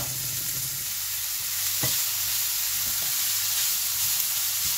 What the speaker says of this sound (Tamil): இனி இந்த கீரையை இதோட கொட்டி ஒரு நிமிஷத்துக்கு மேலே இதை அவிய விடக்கூடாது